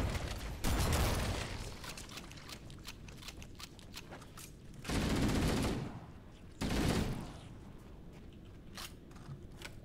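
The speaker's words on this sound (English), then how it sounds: "they always keep shooting me after I die" Enemy gunfire in Halo pours into a downed player's body as bursts of rapid automatic shots. There are three loud volleys, each about a second long, and faint crackle and game ambience run between them.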